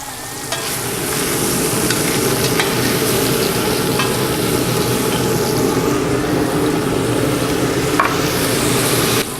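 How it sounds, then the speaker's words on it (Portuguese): Water hits a hot pan to deglaze the browned bottom, producing a loud, steady sizzle as the pan is scraped and meat fries throughout, with no talking. "Isso a gente retira com um pouquinho de água, a gente deglaça o fundo."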